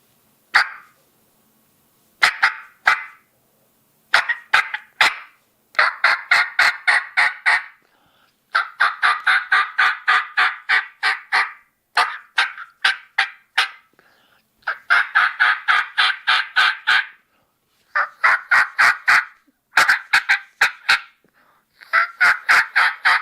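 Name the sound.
Woodhaven mouth call imitating a turkey, heavy raspy call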